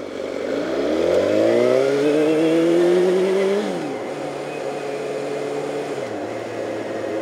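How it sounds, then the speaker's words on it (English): Suzuki GSX-R sport motorcycle with a lost throttle butterfly, its engine revving up in a rising, strained whine, then dropping back to a steadier running drone, close and fairly loud with no talk. "you can hear it. It is better. And the bike is running smooth."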